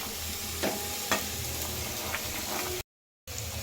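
Cooked cowpea beans and greens tipped into a pan of frying onions give a close, steady sizzle with a few stirring scrapes, cut by a brief dropout near the end.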